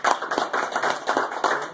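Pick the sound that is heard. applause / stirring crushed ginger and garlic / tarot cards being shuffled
applause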